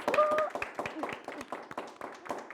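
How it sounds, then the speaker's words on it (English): Audience applause on a live show: quiet, scattered clapping continues through the short stretch, partly under a voice speaking over it. "Give yourselves a round of applause."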